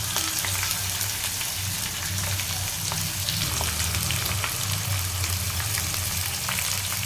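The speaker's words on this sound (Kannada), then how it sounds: "ಎಣ್ಣೆ, ಮೆಣಸಿನ್ಕಾಯಿ, ಈರುಳ್ಳಿ ಇದಿಷ್ಟು ಚೆನ್ನಾಗಿ ಫ್ರೈ ಆಗಿದೆ." Onions and green chillies frying in hot oil, a steady dense sizzle with soft crackles running throughout, close and fairly loud, with no voices.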